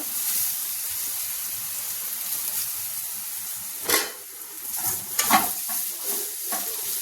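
Ridge gourd pieces fry in a pan of hot oil with turmeric, curry leaves and dal, giving a steady close sizzle broken by a few louder stirring scrapes and hiss bursts toward the end.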